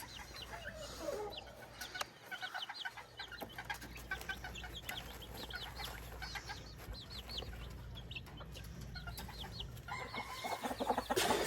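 Gamefowl chicks and hens clucking and peeping together in a farmyard, a busy, continuous chatter of soft calls at moderate distance, with scattered louder clucks and an occasional distant crow.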